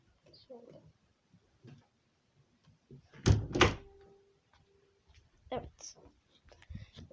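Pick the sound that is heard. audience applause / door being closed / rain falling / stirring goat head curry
door being closed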